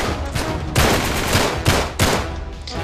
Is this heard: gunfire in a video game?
yes